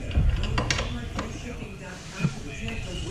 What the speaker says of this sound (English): I just have to tighten the fuel rail nut on this.